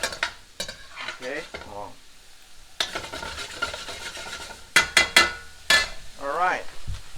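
Garlic sweating in a pan, sizzling and frying steadily under a few brief spoken words, with stirring scrapes and occasional sharp utensil clatter.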